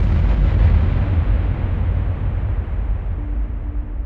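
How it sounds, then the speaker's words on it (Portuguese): A deep, rumbling explosion effect representing the Big Bang, a loud sustained low roar that slowly fades over several seconds with no other sounds. "O universo que conhecemos começou com a explosão de uma singularidade durante o Big Bang"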